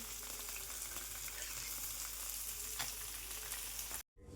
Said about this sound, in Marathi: ह्याला मीडियम फ्लेमवर शिजवायचे, फिश फ्राय करायचे